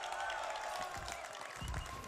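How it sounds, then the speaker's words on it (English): A crowd of esports fans cheers and claps for OpTic Gaming at the UMG California 2015 event, a dense, steady roar of voices with scattered claps and faint talking mixed in. "Optic fans cheering on their favorite squad."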